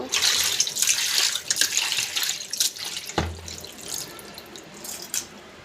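Small fish are washed under a running kitchen tap, with water splashing and gurgling in irregular bursts, briefly easing off midway before the flow and rinsing resume.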